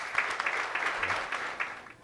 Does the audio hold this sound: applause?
yes